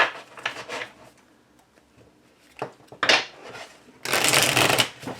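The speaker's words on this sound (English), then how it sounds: "it's a very satisfying playing card-esque shuffle" Cards are riffled and shuffled in several quick bursts separated by short pauses, ending in a longer, louder crisp flutter of cards close by.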